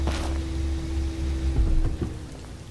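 Rain falls in the video game Final Fantasy XV, a steady loud hiss of rain with a low rumbling undertone, no talking.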